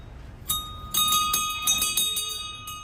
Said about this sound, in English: if we did a good job, ring the bell